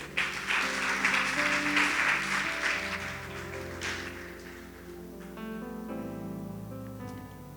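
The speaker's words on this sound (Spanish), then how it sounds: "Denle un fuerte aplauso al Señor." Congregation applauding during a church sermon, a dense clapping wash that fills the first few seconds and then fades under sustained organ or keyboard chords.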